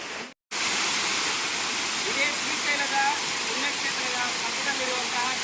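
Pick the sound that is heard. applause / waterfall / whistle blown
waterfall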